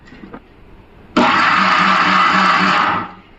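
A mixer grinder jar whirs loudly as it blends cream with cold water for homemade ghee: a single steady burst of about two seconds that starts abruptly after near-silence and cuts off.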